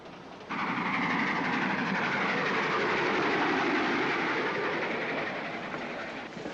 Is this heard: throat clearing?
no